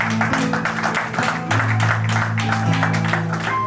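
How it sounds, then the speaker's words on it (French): A French-speaking church gathering at a vernissage claps and cheers to acclaim the Lord, with rapid clapping over a sustained hum of voices and a low droning tone. "Est-ce qu'on peut acclamer le Seigneur?"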